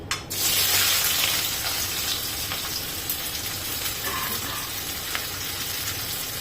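Thinly sliced onions frying in a pan for a Maharashtrian festive cashew curry, a steady broadband sizzle with an initial burst as they hit the oil, then continuous crackling and light stirring, close and alone.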